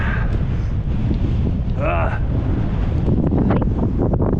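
A strong headwind buffets the microphone with continuous loud, low rumbling gusts throughout, and a voice briefly sounds partway through.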